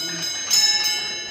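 A railway signal box block instrument bell rings in a training signalling room, two or three bright metallic strikes with ringing overtones, with talk continuing around them.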